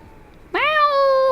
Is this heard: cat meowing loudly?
yes